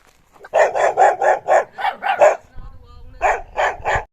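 A dog barks repeatedly in quick bursts, about a dozen close, loud barks with a short pause partway through, while a person speaks in the background.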